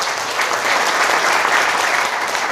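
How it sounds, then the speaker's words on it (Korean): An audience at a laughter-therapy lecture clapping for one another, a loud, sustained burst of dense crowd applause lasting a couple of seconds with no talking. "한번 힘찬 서로에게 박수 한번 부탁드리겠습니다."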